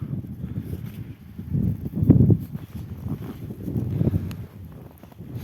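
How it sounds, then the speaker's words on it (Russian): Strong northern wind rumbles steadily against the microphone at a fishing spot in Yakutsk, rising in a couple of heavier gusts, low and close with no voices. "На улице ветер такой северный."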